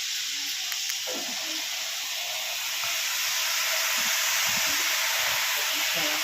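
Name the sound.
grated potatoes frying in hot oil in a wok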